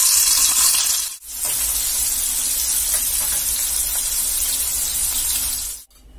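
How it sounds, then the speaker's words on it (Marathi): Paneer cubes shallow frying in hot oil in a pan, a steady bright sizzle that runs unbroken apart from two brief pauses. "हे जे आपले पनीर आहेत ना ते तेलामध्ये थोडे थोडे चाळ फ्राय करून घेऊया"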